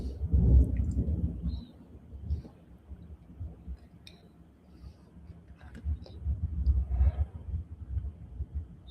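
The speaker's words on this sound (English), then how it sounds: "Yeah, there's thunder here and lightning." Thunder from a passing storm with lightning rolls in deep, loud rumbles, swelling strongly at the start, easing off, then building again toward the end, with no voices.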